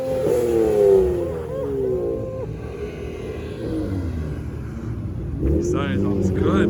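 An Audi RS3 revs at a Hartford car meet, engine climbing in pitch and settling back with a steady rumble, under nearby talking.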